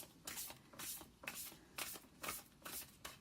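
Moonology oracle cards shuffled by hand, a short burst of soft rhythmic riffling swishes repeating about every half second, close and quiet, with no voices.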